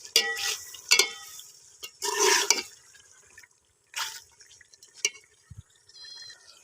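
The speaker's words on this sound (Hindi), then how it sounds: "थोड़ा थोड़ा जो है वो पानी, ज़्यादा मिकदार में नहीं, थोड़ा थोड़ा हल्का हल्का ऐसे वो आप डालते रहें" Water splashes and trickles in short, separate bursts into chicken karahi frying in a pan, each pour followed by quieter gaps with light drips and faint bubbling.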